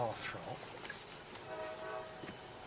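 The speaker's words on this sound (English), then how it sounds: "Train." A distant train sounds its horn in drawn-out, faint blasts, with low rail rumble underneath.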